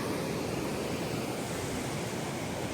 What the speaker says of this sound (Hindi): यहाँ पे बहुत तेज़ पानी बहता है